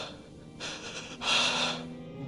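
A Final Fantasy 12 character gasps in pain, two sharp breathy intakes in quick succession, the second louder and longer, heard close over faint game ambience with no talking.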